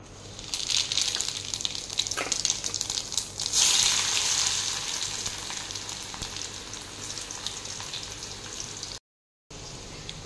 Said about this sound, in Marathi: त्यामध्ये मी आता जिरे घालत आहे.